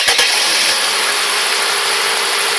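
A Mercedes C280 W202 with the M104 straight-six, misfiring on cylinders 3 and 4, runs at a loud steady idle up close after a brief cranking start, a dense continuous mechanical drone.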